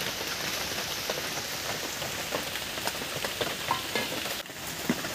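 Grated coconut added to a pan and stirred while making rasmalai sandesh, with a dense, steady sizzle and faint scraping of a utensil throughout, close and continuous.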